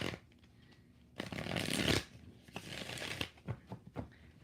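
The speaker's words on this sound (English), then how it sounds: "I'm going to do 6 shuffles." Tarot cards are shuffled by hand in a live reading, a close, crisp riffle-and-slide burst followed by several shorter shuffling flurries, with no talking over them.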